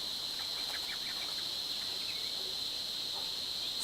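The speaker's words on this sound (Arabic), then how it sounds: "الصراصير دايرين حفلة هنايا" Crickets in wild outdoor nature keep up a steady, high, unbroken trill, moderately loud and constant throughout, with a few faint bird chirps scattered in the background.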